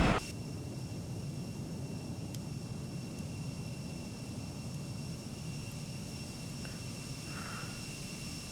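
Embraer E-Jet airliner engines in the X-Plane flight simulator, seen from outside, give a steady, even roar with a faint high whine that holds unchanged throughout, with no talking.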